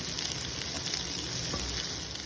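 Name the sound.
garlic added to capsicum and onion frying in butter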